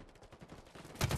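Rapid gunfire in the shooter Halo Infinite during a ranked online match, a short busy burst of shots that grows louder and heavier toward the end.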